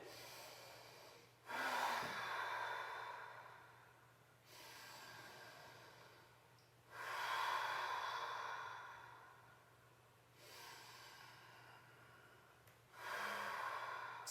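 Slow, deep breaths from a person holding a side-body yoga stretch, each long inhale and exhale rising and fading in a steady cycle of about five seconds, close and alone over a faint low hum.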